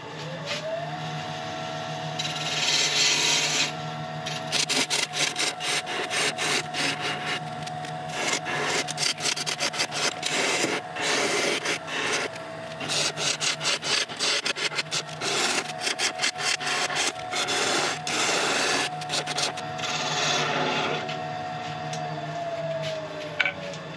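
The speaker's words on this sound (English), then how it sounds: "I'm gonna get out my ball gouge and just start messing around with the design here" A ball gouge cuts into a spinning greenheart and purpleheart mallet blank on a wood lathe, giving a steady motor hum under a long run of close, rapid scraping and rasping cuts.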